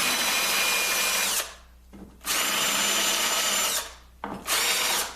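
A power drill countersinks bolt holes in a mobile tool base for an ornamental mill, running in two steady, loud bursts with a short pause between them, then starting up again near the end.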